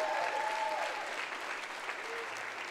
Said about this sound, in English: Let's give Ed a round of applause.